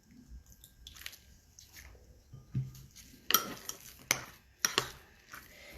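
Seasoned food being mixed with pepper and a little lemon juice, giving soft squishy stirring and a few sharp utensil clinks against the dish, close and intermittent, with no talking.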